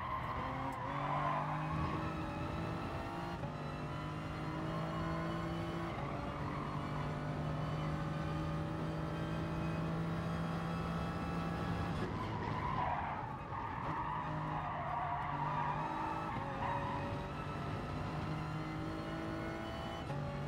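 A race car in Gran Turismo Sport braking and cornering, with a steady engine drone, long tire squeals through the bends and a brief drop in engine pitch midway as it slows, then builds again.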